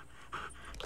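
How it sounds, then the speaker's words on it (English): A big dog pants quietly in a movie scene from Ferris Bueller's Day Off (1986), a few soft, quick breaths. "Oh, big dog. It's a big dog."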